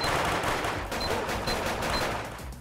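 Rapid SMG gunfire in the game GunZ, a dense continuous rattle of fast shots that stays loud and steady throughout with no talking over it.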